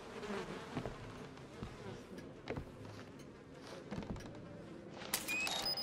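Insect buzzing, like flies, in the horror video game Outlast 2, a steady drone under game ambience with several sharper thuds and a brighter burst near the end.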